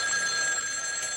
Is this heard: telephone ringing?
yes